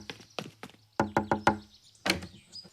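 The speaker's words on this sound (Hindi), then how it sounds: "रोहित, दरवाजा खोलो।" Sharp knocks on a door come in quick groups, a few raps, then four firm evenly spaced knocks, then another heavy knock, close and loud with no speech.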